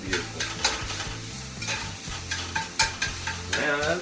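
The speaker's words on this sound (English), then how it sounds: "Man, I think the sausage is about done over here. Look at that. Hear that sizzle sizzle" Sausage sizzles steadily in a hot pan, a close crackling hiss with occasional louder pops and scraping stirs.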